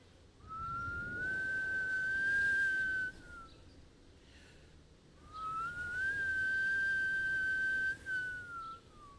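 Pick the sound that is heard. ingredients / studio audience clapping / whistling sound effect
whistling sound effect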